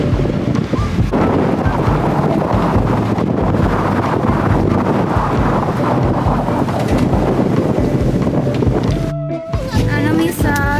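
Strong wind rushing across a Boracay beach, buffeting the microphone in a constant loud roar with faint surf underneath and a brief dip near the end.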